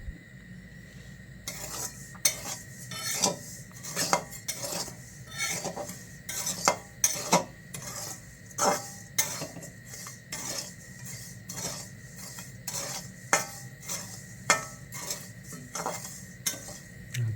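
Rice flour dry-roasts slowly over a low flame in a pan, a metal spatula scraping and clinking against the pan in frequent sharp strokes over a faint, quiet sizzle.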